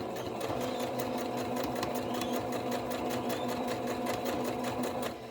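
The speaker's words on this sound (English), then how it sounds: "my presser foot is going to follow that line down to the next" A sewing machine stitches a quilt block with a fast, even mechanical whir and rapid needle ticking, running steadily nearby until it slows at the end.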